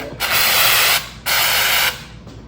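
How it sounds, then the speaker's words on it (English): Two long bursts of spray hiss loudly from a sprayer applying wall texture to an interior wall, each lasting under a second, separated by a brief pause and a faint trailing hiss. "I have this wall texture stuff, and I'm just gonna spray it on"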